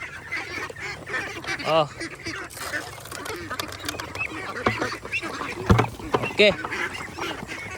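Domestic ducks returning home quack and honk in scattered, nasal calls, some close and loud, others further off, with a person briefly speaking among them.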